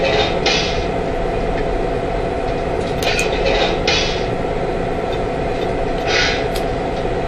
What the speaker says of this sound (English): Here's the sound of couplers.